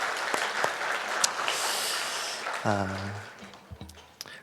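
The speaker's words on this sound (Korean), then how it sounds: "우리 1년 동안 수고한 할렐루야 찬양대를 위해서 또 하나님께 영광 돌리면서 같이 함께 박수하도록 하겠습니다." A church congregation at a Korean Advent Sunday worship service applauds the Hallelujah choir: a burst of clapping that fades after a couple of seconds, then a voice speaks briefly over scattered last claps.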